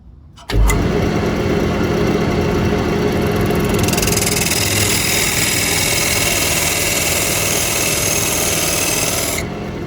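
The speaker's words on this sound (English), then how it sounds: "take my cutoff tool again and just put an indent here" Wood lathe running steadily while a cutoff tool cuts an indent into a walnut bowl, a loud continuous whirring rasp that starts abruptly and holds for about nine seconds, brightening partway through, with no talking.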